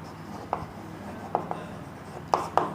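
Chalk or marker strokes on a board as a teacher writes notes during a Class 10 science lecture, a few short scratchy taps spaced irregularly, fairly close, with no talk.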